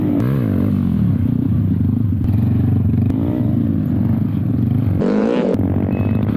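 A stunt motorcycle at a practice ground, its engine droning loudly and steadily close by, with rising and falling revs and a brief sharper burst near the end.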